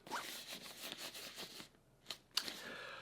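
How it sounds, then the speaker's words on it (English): A zipper on a DB travel luggage set compartment is pulled closed in a quick, close rasping run, then a pause and two brief sharp ticks of the slider, loud and alone with no speech. "zip that up like that"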